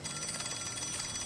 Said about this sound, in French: Oh, vous avez le téléphone ici.